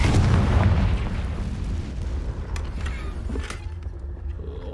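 A Confringo spell explodes in the Hogwarts Legacy video game: a loud close boom at the start that decays into a rolling rumble, with a few sharp crackles later.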